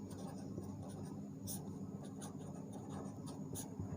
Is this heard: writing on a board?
yes